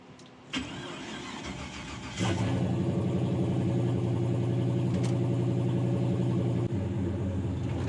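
A 750 hp turbocharged LS engine in a hotrod truck cranks and fires, then settles into a loud, steady, rumbling idle from its exhaust.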